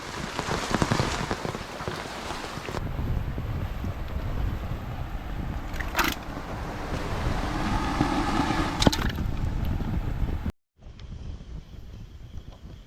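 Steady rain falls outdoors near water where a fish trap is set, a dense, even hiss with gusts of wind on the microphone, continuing throughout with no talk.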